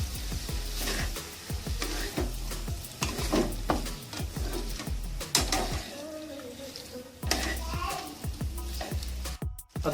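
Boiled macaroni is tossed with vegetables in a hot pan. A constant sizzle runs under repeated close scraping strokes of the spoon, with a faint voice in the background.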